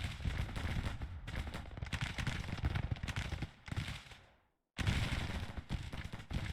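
Counter-battery artillery fire in the Grand Tactician Civil War strategy game, dense rumbling bursts of gunfire and booms with a brief silent break before the barrage resumes.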